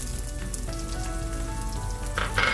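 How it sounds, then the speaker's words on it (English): Curry leaves, slit chilies and coconut pieces fry in hot oil for Kerala beef chukka, a steady close crackling sizzle with a brighter burst of spattering near the end. "To this, I'm going to add my curry leaves, sliced or slit chilies, and the coconut pieces."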